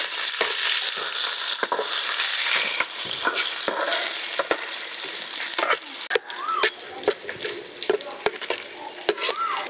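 Sliced onion and green chillies fry in hot oil for a biryani, a loud, close crackling sizzle with repeated scraping stirs and clatter of a spoon against the pan.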